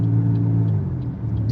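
A car accelerating on a city road during a driving test, its engine rumbling low and steady from inside the cabin, with the pitch rising slightly as it gathers speed through the lane change.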